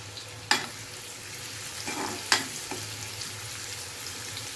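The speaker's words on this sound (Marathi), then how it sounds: "कांदा मस्त परतून घ्यायचा आहे ब्राऊन कलरचा होईपर्यंत." Finely chopped onion frying and being turned in a pan with whole spices for a village-style chickpea curry, a steady low sizzle with a few sharp clicks of the spoon against the pan, alone and quiet.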